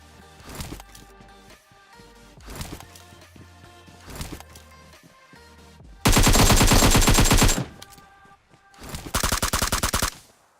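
Automatic gunfire in PUBG Mobile during a solo-versus-squad match: a few scattered shots first, then two loud, rapid sustained bursts close by, each lasting a second or more.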